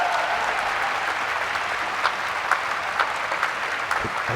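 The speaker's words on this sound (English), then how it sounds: "the crowd are getting behind her" Steady applause from a swimming-venue crowd at the 2015 ASEAN Para Games, cheering on a swimmer in discomfort; dense continuous clapping throughout with a few sharper claps standing out.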